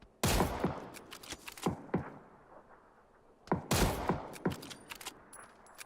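Gunfire in the PUBG video game rings out in two tight bursts of sharp, loud shots, each followed by scattered single cracks and echoing thuds, with no talk over it.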